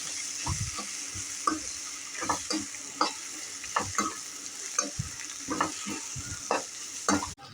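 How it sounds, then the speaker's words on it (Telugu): Bay leaves, peppercorns and cinnamon fry in hot oil in a pan, a soft constant sizzle broken by repeated bursts of stirring and scraping, close by and with no voices. "సో ఇందులో ఇప్పుడు 2 బిర్యానీ ఆకులు, 4 మిరియాలు అండ్ 1 దాల్చిన చెక్క వేసుకొని బాగా వేయించుకోండి."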